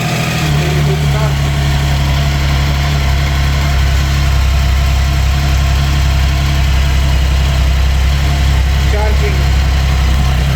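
A Triumph Sprint ST 1050 motorcycle engine idles steadily after an electrical overhaul, giving a loud, close, even rumble that stays constant throughout.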